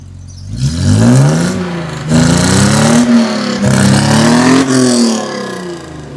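A Mercedes-Benz W124 engine with a rebuilt K-Jetronic fuel distributor revs hard to high RPM in repeated pulls, loud and close, each rise and fall running into the next with no talking.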